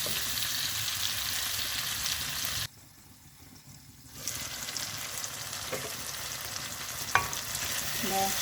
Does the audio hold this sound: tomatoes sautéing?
yes